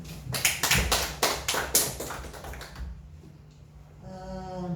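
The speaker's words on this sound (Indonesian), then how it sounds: "tepuk tangan" Clapping from a small audience after a nutrition presentation, a short burst of sharp, closely spaced claps that dies away after about three seconds, followed by quiet room tone and a faint tonal hum at the end.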